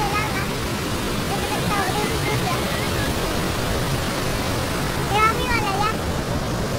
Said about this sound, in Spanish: Por fin hemos llegado a la cascada.